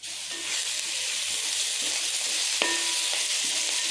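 Chopped onions sauté in a pan for a vegetable curry, a steady broad sizzle running throughout with a brief clink of a stirring utensil near the middle and no voices.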